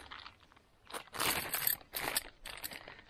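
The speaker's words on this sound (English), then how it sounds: "Plastic bag." A plastic bag from a Naturehike Cloud Up 2 backpacking tent package crumpled and crinkled by hand in several bursts of crisp rustling, close and fairly loud, with no talking.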